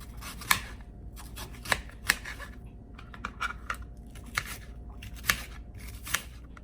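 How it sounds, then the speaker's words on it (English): Onions being diced with a knife on a cutting board for a bacon cheeseburger pie, sharp irregular chopping taps coming close and fairly loud, with no talk over them. "Dice your onions."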